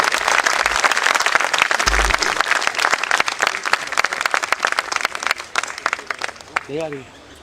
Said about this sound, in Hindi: तालियां जोरदार बजनी चाहिए मित्रों।